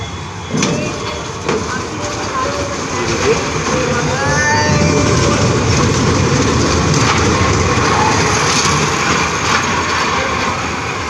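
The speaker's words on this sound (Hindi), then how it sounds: "ट्रेन में राइड लेते कुछ लोग" A small amusement train ride runs at a fair ground in Janakpuri, Delhi, giving a steady rumble and clatter, with faint squeals and crowd noise throughout and a voice briefly audible.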